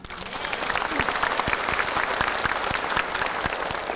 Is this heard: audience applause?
yes